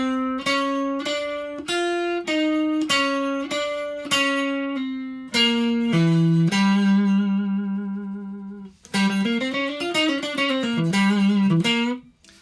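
Electric guitar playing a short blues lick built on a major 6 interval, resolving to the root, with distinct picked notes, a held note and a wavering, bent phrase toward the end, clean and close with no talking.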